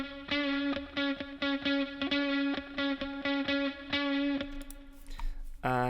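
Heavily distorted electric guitar chugs out a steady rhythmic pattern of chords, thick and saturated, ending with a brief scrape and a final strum.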